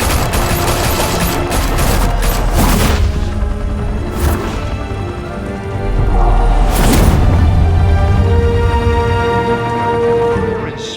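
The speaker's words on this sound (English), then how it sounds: "Open fire!" A squad opening fire in the Batman Telltale Series video game: loud rapid bursts of gunfire and booming shots in several volleys, close and dense, with a brief shouted voice among them.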